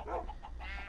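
A chicken in the Minecraft video game gives a few short clucks in quick succession, close and fairly quiet against a low background hum, with no speech.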